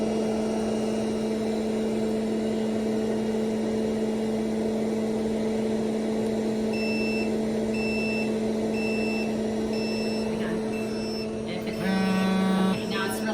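A steady mechanical hum runs throughout while a high, intermittent electronic alarm beeps in a regular repeating pattern, followed near the end by a brief louder burst.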